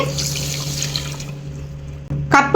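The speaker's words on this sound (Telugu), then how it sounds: "బావు నీళ్ళు పోసుకుంటున్నా ఇందులో" Water pours steadily into sugar for a couple of seconds and fades, followed by a short clatter and a brief splash near the end.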